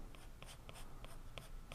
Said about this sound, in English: draw with your pencil.